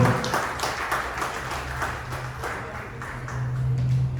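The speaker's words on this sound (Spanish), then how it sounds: "Démosle otro aplauso al Señor." A church congregation claps during a Spanish-language worship service, moderate applause of scattered hands under a low hum of organ or sustained music, fairly quiet and diffuse.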